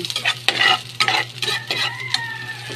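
Garlic sautés in a hot pan, hissing and sizzling steadily while a utensil scrapes and stirs it in several distinct strokes.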